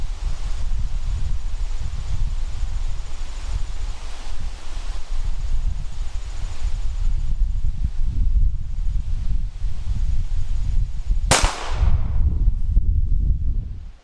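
A single sharp IWI Masada pistol shot cracks at an outdoor range target late in the clip, rising abruptly out of steady, heavy wind rumble and fading quickly.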